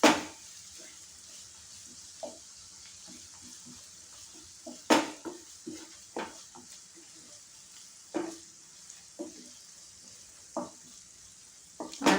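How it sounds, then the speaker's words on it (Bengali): Cashews lightly frying in a pan for a Mughlai paneer dish, a quiet steady sizzle broken by sharp scrapes and clinks of stirring. "এবার এর মধ্যে আমি কিছুটা কাজু, এরকম 1 মুঠো কাজু দিয়ে আমি এটাকেও ওটার সঙ্গে হালকা ভাজবো।"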